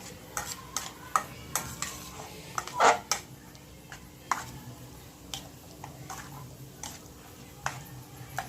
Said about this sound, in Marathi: वेलची पूड घालूया मिक्स करूया जरा फटाफट मिक्स करायचं आहे